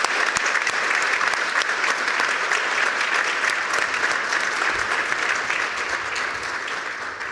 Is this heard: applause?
yes